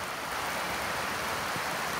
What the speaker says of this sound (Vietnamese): Giờ mưa to lắm luôn á.